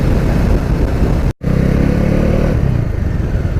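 A Bajaj Dominar 400 motorcycle out on a ride, its engine loud and close with a steady drone and rumble, heavy wind rush over it, and a brief drop-out partway through; no talking.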